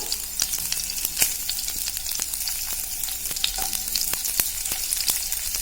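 Onion, green chili and ginger, with cumin and dried red chilies, sautéing in a pan, a constant close sizzle broken by sharp pops and crackles all the way through, with no voices.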